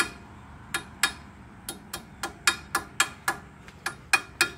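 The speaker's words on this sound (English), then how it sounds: "You gotta use your dykes as a little hammer." Diagonal cutters used as a small hammer tap a cotter pin straight during an 8-inch Talon portal installation, giving a run of about a dozen sharp, close metallic taps at an irregular, quickening pace.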